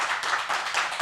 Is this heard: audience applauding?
yes